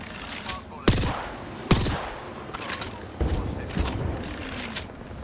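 Smart bullet gunfire in Apex Legends rings out as several sharp, booming shots spaced a second or so apart, with a steady rumble of game noise between them.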